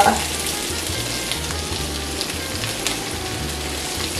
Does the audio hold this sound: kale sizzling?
yes